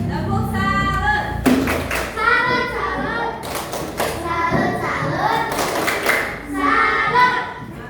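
Children in a classroom perform a rhythmic 'tepuk salut' clap, patterned bursts of sharp, loud hand claps alternating with chanted voices close by.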